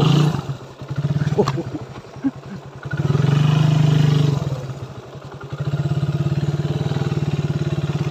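Motorcycle engine chugging and revving in surges as it bumps along a rough forest road, with rattling and clattering from the bike.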